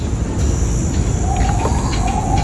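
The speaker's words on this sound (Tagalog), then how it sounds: "Huli niya daw yung ibon." A bird gives a drawn-out, whistling call partway through, fairly faint against loud, steady background noise.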